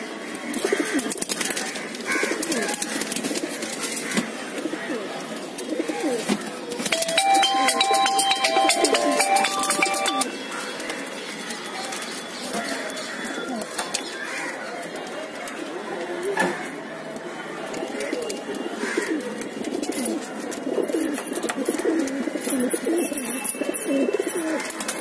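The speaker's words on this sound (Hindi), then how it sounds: "कबूतर आप लोग के सामने है" Pigeons coo in a loft in Mumbai, with a busy backdrop of soft overlapping calls, wing flutters and clinks, and someone talking over them throughout.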